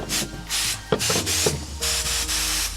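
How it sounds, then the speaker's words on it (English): An air compressor pushes air through a valve into a mountain bike inner tube in rhythmic hissing bursts of about half a second, separated by short gaps with small clicks and knocks from the fitting. "because I am using my air compressor, I push down where the valve stem is"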